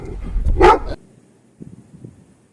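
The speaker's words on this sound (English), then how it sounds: "The answer is dog." A single dog gives a short, loud bark, followed by a near-silent pause and a few faint, soft dog noises.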